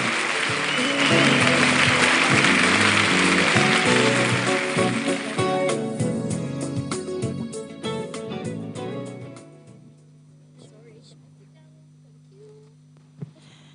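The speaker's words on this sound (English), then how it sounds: "A round of applause, please." Audience applause at a fintech conference in Lagos, a dense wash of clapping from a large crowd that holds loud for several seconds, then thins and fades out, leaving a quieter room with some musical tones.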